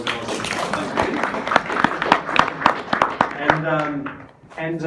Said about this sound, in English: let's give Karen a big round of applause